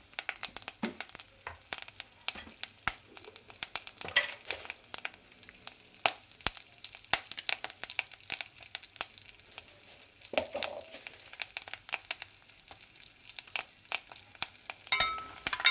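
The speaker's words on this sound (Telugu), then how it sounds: "ఇది చిట్టుపట్లాడింది కదండి" Mustard seeds with cumin, dried red chillies and curry leaves splutter in hot oil for a tempering, a steady crackle of sharp pops and sizzling close by with no talk.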